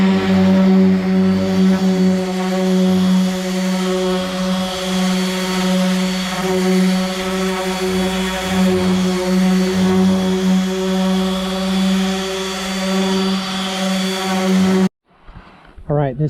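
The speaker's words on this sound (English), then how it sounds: "this sander seems to be doing a pretty good job taking this down and cleaning this up" A power sander grinds steadily against the fiberglass top of a VW Bus, a loud continuous droning hum up close that stops abruptly near the end.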